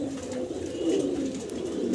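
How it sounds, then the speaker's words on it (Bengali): A single blue bar pigeon coos softly and steadily at close range on a pigeon farm, with no talk over it. "এখানে আবার এক পিস সিঙ্গেল কবুতর দেখাচ্ছি, ব্লুবার"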